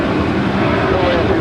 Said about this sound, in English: And here we have ABX 105 off to Phoenix. It is a 767-200.